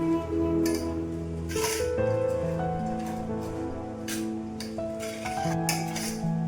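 A spoon stirs Mumbai-style bhelpuri coated in red chutney in a bowl, giving soft scraping and clinking against the dish over steady background music, with no talk.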